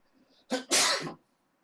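A single sharp human sneeze, close and loud, with a short gasping intake just before the burst; nothing else follows.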